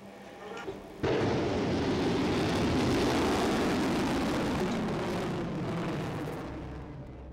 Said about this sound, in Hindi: इंडिया ने चंद हफ्ते कबल एक हाइपरसोनिक मिसाइल का तजुर्बा किया